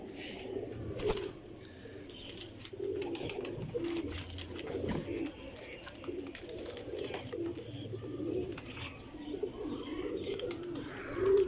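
Several pigeons coo softly and repeatedly nearby, with a few chirps and bird calls mixed over a low background murmur.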